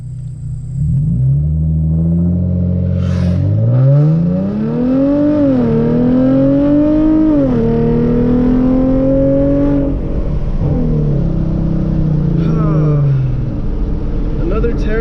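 A Hyundai Genesis Coupe 3.8 accelerates hard in a 0 to 60 run. The engine note climbs loud and close, drops briefly at each gear change, then rises again, and eases off toward the end.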